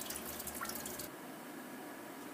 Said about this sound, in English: As soon as this stops dripping into this pail here